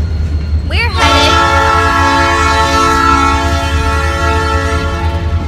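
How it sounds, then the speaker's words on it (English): Train passing close by with a loud, sustained horn blast that starts about a second in and holds over the heavy rumble of the moving cars. "There's a train."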